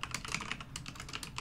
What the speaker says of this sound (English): And I just got a new keyboard, so it might be a little clicky.